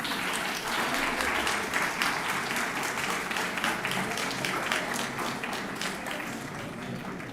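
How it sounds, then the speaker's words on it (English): An audience at a graduation ceremony gives graduates a sustained round of applause, a dense and even clapping that holds steady throughout and fades slightly toward the end. "Let's give them all a big round of applause."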